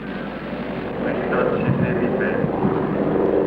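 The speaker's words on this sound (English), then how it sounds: "the newest, the largest, and the fastest planes in the world take off for Le Bourget, Paris, France" Aircraft take off at the 1967 Paris Airshow at Le Bourget, heard as a steady, muffled engine roar that swells slightly after the first second in a dull, narrow-band old recording.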